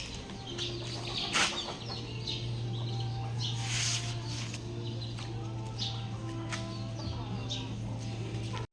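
Chicks and fowl in a farmyard cluck and peep repeatedly over a continuous background hum, with a few louder bird calls standing out.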